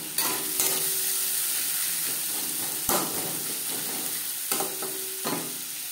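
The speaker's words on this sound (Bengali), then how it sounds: "ডিম ভেজে নেওয়া তেলে দিয়ে দেব পেঁয়াজ কুচি।" Chopped onion sizzles steadily in the oil left from frying duck eggs for an egg curry, a continuous close hiss broken by a few sharp stirring knocks against the pan.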